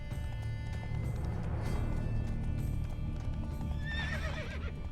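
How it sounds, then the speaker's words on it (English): Horses in The Witcher 3 video game clip-clop steadily over a rumbling background, and a high whinny rises clearly near the end. "Horses must have gotten spooked."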